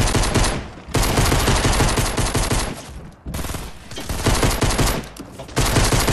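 Sustained video game gunfire in a duos battle royale match, dense overlapping volleys with brief pauses between long bursts, loud and close.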